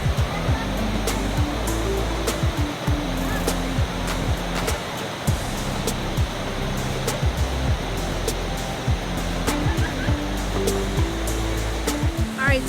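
The steady, loud roar of the waterfall at Shacktown Falls fills the scene without a break, as a continuous rush of falling water with no voices.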